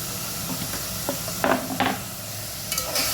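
Masala paste for village-style chicken biryani fries in a pan with a soft steady sizzle, broken by a few short scraping stirs of a spoon, quiet and close with no talk.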